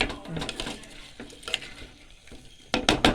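Crab being stirred into a thick masala in a pan while cooking, with scraping and clattering spoon strokes, a louder cluster near the end and faint sizzling underneath, close up.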